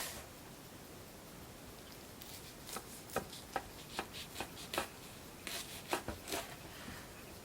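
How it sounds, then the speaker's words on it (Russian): A hot homemade pie is cut with a knife, giving a series of soft, irregular crisp cuts and crunches, close and fairly quiet, with no talking. "Вот на горячую прям режем"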